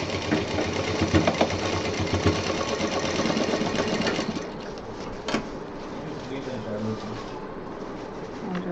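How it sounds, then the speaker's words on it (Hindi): A sewing machine stitching a handmade fabric bottle case runs in a steady, rapid whirr throughout, easing slightly partway through. "अब इसको हम पूरा सिल जाएंगे।"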